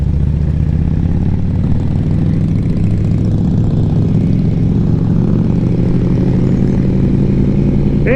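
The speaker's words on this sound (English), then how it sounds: "those carbureted bikes just have a whole different, I don't know, that old school sound, that loping sound that they have" A carbureted motorcycle engine runs steadily and loudly throughout, a continuous low rumbling drone close by with no voices.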